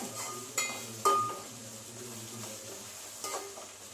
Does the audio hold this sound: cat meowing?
no